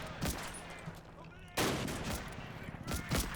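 Covering fire from a .30 cal machine gun in the WWII game Combat Mission: Battle for Normandy, heard as quiet, distant rattling bursts, one striking around midway, over a low battlefield wash.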